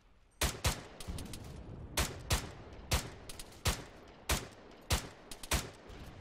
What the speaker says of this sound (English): Mortar fire.